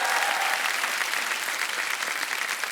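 Studio audience at a comedy show applauding, a dense, loud, continuous burst of clapping from a large crowd with no other sound.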